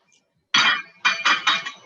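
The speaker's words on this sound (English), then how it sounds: "fill the glass with ice." Ice cubes drop into a glass for a gin and ginger beer drink, a sharp clatter followed by three more quick clinks, close and loud after a brief silence.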